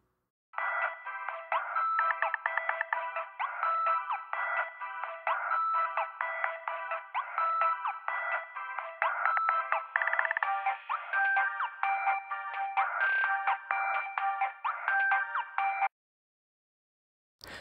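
Music filtered down to only the mid-range band between 800 and 2,500 Hz, sounding thin and boxy, playing continuously for about fifteen seconds at steady loudness before stopping abruptly.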